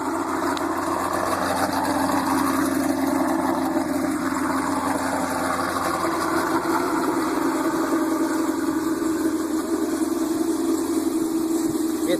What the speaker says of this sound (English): You'll be able to hear the lope real good